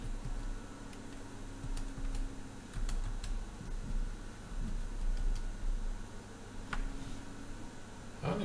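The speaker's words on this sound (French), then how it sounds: "Ok, donc maintenant on va tester le clavier" Light, irregular clicking of keys being typed on a repaired laptop keyboard during a test, soft and close against a low steady hum, with no talk.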